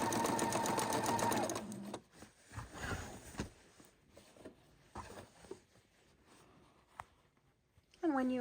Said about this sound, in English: And we just sew 3-4 inches to make sure we're perfectly aligned,